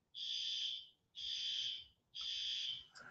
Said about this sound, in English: I'm hearing this beeping in my background.